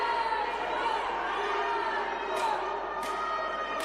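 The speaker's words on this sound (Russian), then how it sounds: "Шайбу требуют болельщики." Ice hockey fans in the arena at a Transneft-Ural versus BGK game chant loudly and continuously, a dense, sustained roar of massed voices with a few sharper accents.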